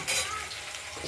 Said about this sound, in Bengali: পনিরগুলো ভাজা হচ্ছে